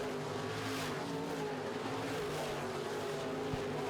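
Midwest modified race cars racing at Red River Co-op Speedway, a continuous distant engine roar with droning, wavering pitch and no talk over it.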